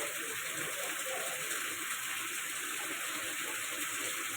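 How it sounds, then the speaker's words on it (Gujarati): A steady, dense wash of heavy rain and gushing water fills the space, loud and unbroken from start to finish, with only a faint trace of voice. "જબરજસ્ત વરસાદ આવે."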